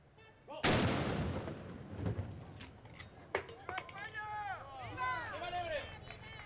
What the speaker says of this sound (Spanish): El tradicional cañonazo de las 12 con motivo de la festividad